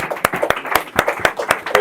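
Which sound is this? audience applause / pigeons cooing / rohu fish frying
audience applause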